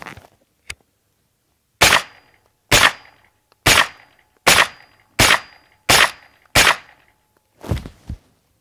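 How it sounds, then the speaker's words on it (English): Sharp, loud gunshots from a pistol caliber carbine firing 100 grain ammunition, a faint first pop followed by seven evenly spaced reports about a second apart and a final doubled shot, close with silence in between. "a few shots of just letting the gun fire and not acting at all"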